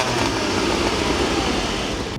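Porsche 718 Cayman GTS 4.0 (2025) in Sport mode, its engine giving a steady, dense, throaty drone heard from inside the car, continuous and even with no voices over it.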